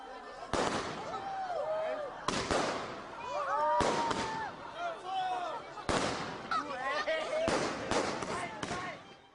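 Fireworks at a Christmas festival, where the holiday lights are switched on and lanterns released, burst in about six sharp bangs with crackling tails a second or two apart, with crowd voices rising between them.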